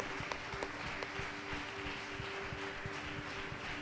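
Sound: church congregation applauding

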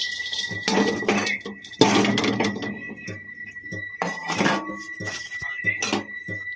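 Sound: dry coconut being added to a pan for roasting

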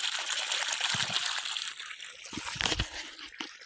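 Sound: irrigation water flowing into a sugarcane field

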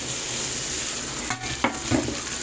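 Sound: tomato and chili frying in pan

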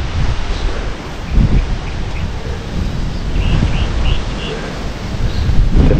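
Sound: strong wind

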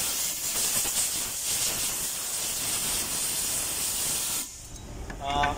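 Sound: compressed air blow cleaning fuel valve nozzle body

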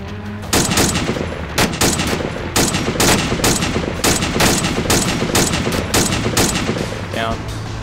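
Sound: gunfire shooting at enemy, video game

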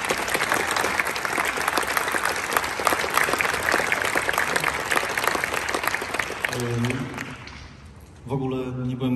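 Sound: audience applause

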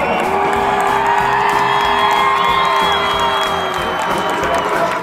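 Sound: crowd cheering for marching band at Bands of America

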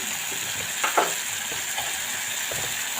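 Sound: spice masala sautéing in a pan

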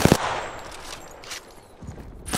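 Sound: gunfire in the video game Apex Legends

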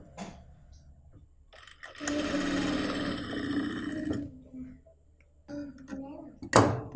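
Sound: sewing machine stitching blouse sleeve pieces at quarter inch

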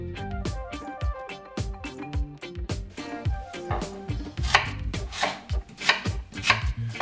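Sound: knife cutting a yam

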